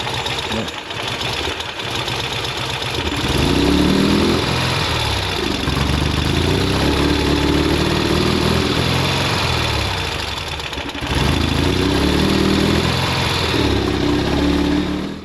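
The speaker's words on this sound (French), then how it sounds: "Donc le moteur tourne mais il ne tourne pas correctement" A motorcycle engine that is not running correctly runs steadily and somewhat unevenly at close range, a continuous rough drone that surges slightly in loudness partway through.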